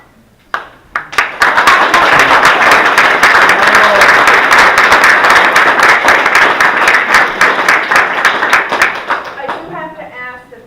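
An audience at a town board public hearing in Hopkinton, New York breaks into loud, sustained clapping that starts with a few sharp claps, swells and holds for several seconds, then thins out into scattered claps as a voice resumes.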